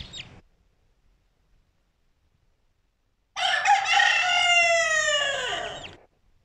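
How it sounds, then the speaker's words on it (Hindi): After a short chirp and about three seconds of quiet, a desi rooster crows once, loud and close, with a harmonic, drawn-out call lasting nearly three seconds before it tails off. "एक देसी मुर्गा और एक मुर्गी बची है बस।"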